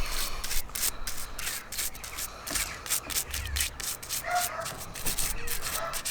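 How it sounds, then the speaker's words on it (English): A dog barks in the background, several short bursts recurring through the clip while metal razor parts are rubbed and scrubbed up close. "There's that dog again."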